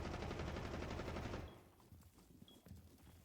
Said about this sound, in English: Gunfire coming in.